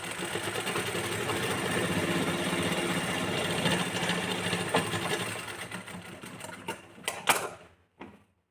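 Sewing machine stitching a folded blouse hem, a fast continuous mechanical rattle that runs steadily, then slows, stutters and stops near the end with a few last clicks.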